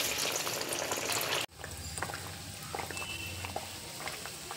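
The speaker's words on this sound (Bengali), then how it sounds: "এবার তেলের মধ্যে ছেড়ে দিচ্ছি" Egg-coated mughlai pieces hiss and crackle loudly in hot oil in a wok, a brief dense sizzle that cuts out and then returns as a steadier, softer frying with faint clinks, no voices.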